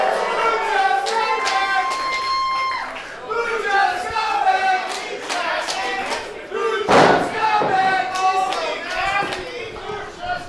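A crowd at a PrideStyle pro wrestling show cheers and shouts in a divided reaction, with loud overlapping voices and chants swelling and dipping, and a sharp burst of noise partway through.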